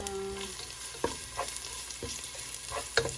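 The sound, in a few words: sautéing corn in a pan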